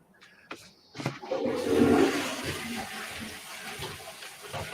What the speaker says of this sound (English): That was definitely a flush.